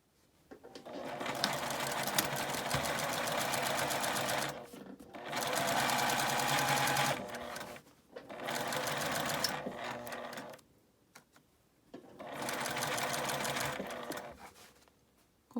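Sewing machine stitching a drawstring lunch bag with a 1.5 cm seam allowance, running in four long bursts with brief quiet pauses between them, close and loud.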